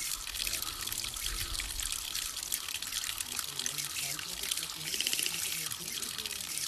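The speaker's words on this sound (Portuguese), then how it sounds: "Eu vou só desligar a torneira" Water runs steadily from a tap, a continuous close hiss and splash that lasts throughout, with a voice faintly underneath.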